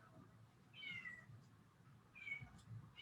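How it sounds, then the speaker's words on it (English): A kitten meows twice, high and fairly close, with a pause between the cries against a quiet room background. "you may hear a cat meowing, and I do apologize. That is my new kitten."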